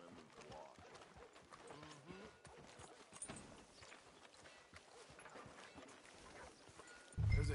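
Horse hooves clip-clop steadily at a trotting pace on a street in Red Dead Redemption 2, a continuous rhythmic patter heard close with no talk over it.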